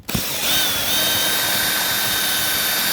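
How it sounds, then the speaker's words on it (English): Power drill boring out a rivet on an '05 drop top, a short start-up thump then a loud, steady high whine held close for several seconds. "I'm going to drill out the third rivet"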